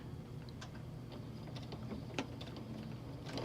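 A sewing machine stitches the lining of boys' shorts with a quiet, continuous mechanical whir and rapid ticking of the needle, close and faint.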